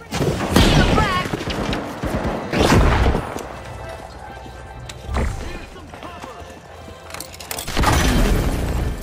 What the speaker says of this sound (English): Grenade set! Setting a frag!